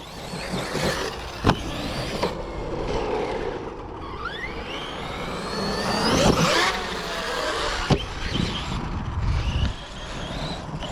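A Traxxas X-Maxx RC monster truck's drive runs near and loud, whining in rising and falling pitch sweeps with sharp knocks and impacts, continuous over eleven seconds with no talking.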